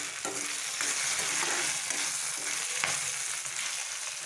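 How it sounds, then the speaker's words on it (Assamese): Fish curry sizzles steadily in a pan as it is stirred after salt goes in, a continuous frying hiss with soft scraping strokes of the spoon, close and alone. "এতিয়া দিম নিমখ, ভালকৈ লৰাই দিওঁ।"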